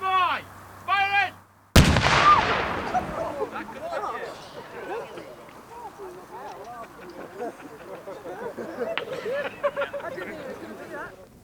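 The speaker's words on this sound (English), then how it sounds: "they're just going to blow it up straight away" A shout rings out before a Second World War bomb is blown up in a controlled detonation: one sudden, loud blast, then a long, fading rumble mixed with the distant chatter of onlookers.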